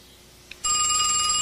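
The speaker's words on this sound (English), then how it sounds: "Answer the phone, Mama." A telephone starts ringing abruptly after a brief quiet moment, a loud, steady electronic bell trill that continues to the end.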